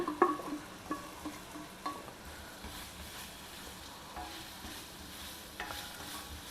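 Potatoes coated in masala with curry leaves roasting in a pan, a faint low sizzle with a few soft stirring scrapes and taps, quiet and steady.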